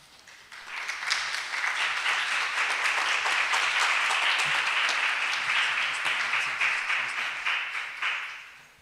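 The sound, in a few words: audience applause after a talk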